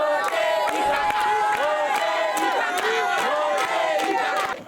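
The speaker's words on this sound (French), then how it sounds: "Applaudissez pour vous." Large crowd at a legislative campaign rally in Côte d'Ivoire cheering, whooping and shouting loudly and continuously, with a dense roar of many voices filling the space.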